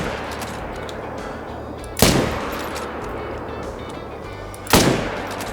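Two sharp rifle shots ring out a few seconds apart over steady outdoor ambience while hunting plains bison in the Call of the Wild hunting game in Yukon Valley.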